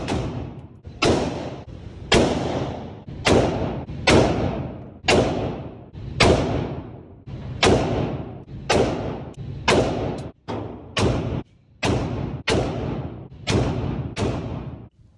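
A PSA JAKL AR pistol with a 10.5-inch barrel fires at a range, a long string of about sixteen sharp, loud reports spaced roughly a second apart, each with a short ringing decay, no talking.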